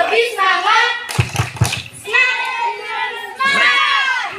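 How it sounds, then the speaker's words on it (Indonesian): Students at a school quiz competition doing a rhythmic spirit clap, a short burst of crisp group hand claps in the middle of loud shouted and chanted voices. "Tepuk semangat."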